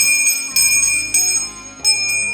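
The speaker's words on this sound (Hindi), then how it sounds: "इसके बाद घंटी बजाएंगे।" A temple bell is struck several times in quick succession, bright ringing tones overlapping and sustaining, close and loud.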